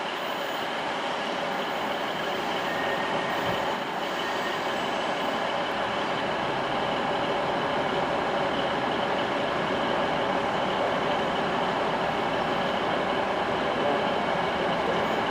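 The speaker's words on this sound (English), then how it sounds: "pulling out now is 1409 Abellio Greater Anglia service to London Liverpool Street" An Abellio Greater Anglia passenger train, the 1409 service to London Liverpool Street with a class 90 locomotive, pulls out of Ipswich station with a loud, sustained rumble that builds slightly as it departs; no one speaks.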